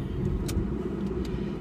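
Steady low engine rumble and road noise from inside a moving car heading home through a wine-growing district, continuous and fairly loud throughout with no talking.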